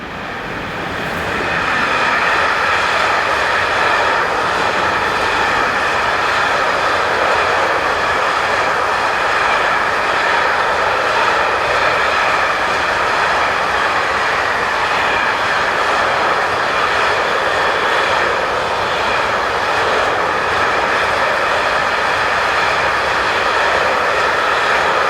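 DB locomotive 189015 hauls a northbound container train bound for Bremen, a steady loud rumble and rolling roar of wagons passing close by, building in the first two seconds and then holding evenly with no voices.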